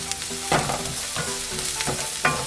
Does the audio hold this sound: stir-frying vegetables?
yes